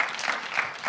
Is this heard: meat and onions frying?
no